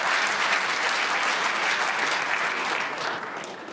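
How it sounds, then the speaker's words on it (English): A snooker match crowd breaks into dense, sustained applause and cheering that stays loud and even for several seconds, then tapers slightly at the end, with no speech over it. "And there's the cheer."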